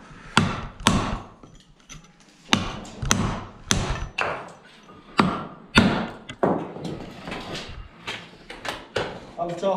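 Sharp chopping knocks as a concrete block is trimmed with a trowel or hammer while building blockwork piers, a dozen or so uneven impacts close by, with people talking between the blows.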